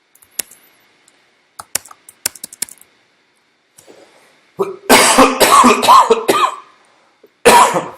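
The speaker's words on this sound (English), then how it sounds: "if I cough and hack and wheeze, you'll just have to excuse me" A person sick for a month coughs and hacks in a loud run of harsh bursts, close up, preceded by scattered keyboard typing and clicks in a quiet room.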